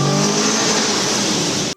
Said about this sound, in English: exhaust that is actually a hell of a lot louder than one would think on a completely stock car